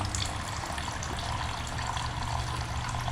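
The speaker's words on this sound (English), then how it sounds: "just get ready to move your pan with the flow of the coolant" Coolant pouring steadily out of a 2018 Honda CB650F motorcycle into a drain pan, a constant close splashing gush of liquid with no pauses.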